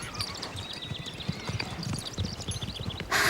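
Rhythmic hoof clip-clop from a horse on a trail ride, steady and fairly close, with brief higher chirps over the top and a burst of noise at the very end.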